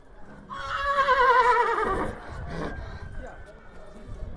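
At a livestock market, a horse gives a loud, wavering whinny lasting over a second, followed by a shorter snort amid crowd noise and voices in the background.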